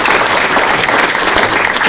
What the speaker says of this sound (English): if I could just ask you all to join us one more round of applause